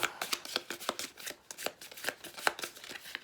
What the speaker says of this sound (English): Let me shuffle these up so we don't know what's what.